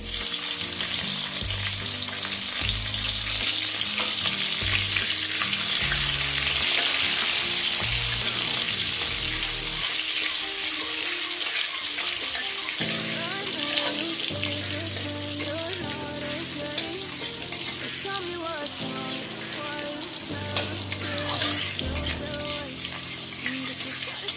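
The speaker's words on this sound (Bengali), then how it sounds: "টমেটো দিয়েও একটুখানি ভেজে নিলাম" Tomato fries in hot oil with nigella seeds for a mustard-paste tengra fish curry, a loud continuous sizzle and crackle throughout, with repeated scraping stirs and a short quieter pause midway.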